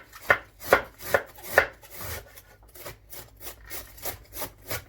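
Sharp knife chopping cabbage on a cutting board, a run of crisp rhythmic cuts, about four strong strokes followed by lighter, quicker chops, close and clear with no talk.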